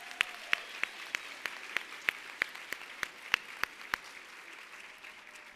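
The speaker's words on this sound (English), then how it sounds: "Another round of applause." Banquet audience at an annual awards conference applauding, a thin round of separate sharp claps in an uneven rhythm that fades out after about four seconds, no voices over it.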